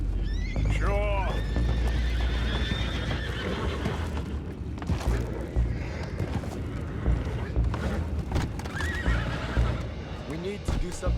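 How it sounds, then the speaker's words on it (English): Horses in Red Dead Redemption 2 neigh and whinny loudly near the start and again near the end, with hooves clip-clopping over a dense in-game soundscape while characters talk throughout. "Boys, go find out about those horses down below."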